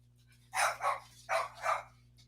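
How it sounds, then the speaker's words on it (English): A small white dog barks four times in two quick pairs, loud and close, with short gaps between the barks and no talking. "Lord, do you hear my little white big mouth dog?"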